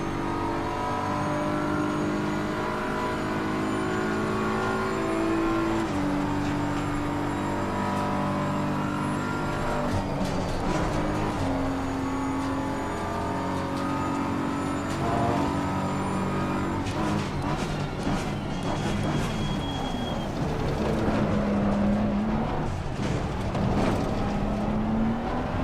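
Race car engines in a video game roar steadily and loudly for the whole stretch, with pitches climbing and dropping as the cars accelerate and shift through a race, and no talking over them.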